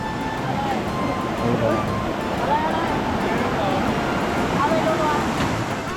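A roadside waterfall along a trail route in Chaiyaphum, Thailand, pours with a continuous broad rushing hiss close by, while a voice talks over the steady water noise.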